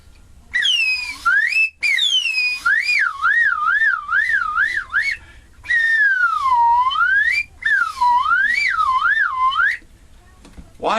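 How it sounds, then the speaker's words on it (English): A slide whistle blown loudly in long swooping glides and rapid wavering trills, broken into several phrases with short pauses, with no voices. "Why am I blowing a slide whistle?"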